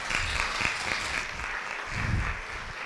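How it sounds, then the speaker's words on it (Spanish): An audience at a medical conference on hair loss applauds a visiting doctor, giving sustained, even clapping through the hall with low rumbles of movement underneath. "Un aplauso, por favor."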